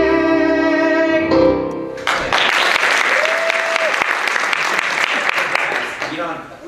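An audience bursts into applause after a sung musical number at an audition, loud and close, rising sharply as the last sustained note ends and then continuing as dense clapping that fades toward the end.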